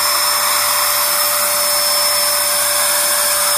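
Vacuum cleaner pulling air through an Ozone carburetor on a test setup, a loud, steady high-pitched whine and rush of air running without a break.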